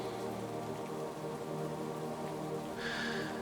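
Steady, soft rain falls in a forest, a gentle continuous patter with no voices.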